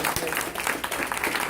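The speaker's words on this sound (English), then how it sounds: "just give another round of applause to all the people that" Audience applause at an event, dense continuous clapping from a room full of people, steady and moderately loud, with some speech mixed in.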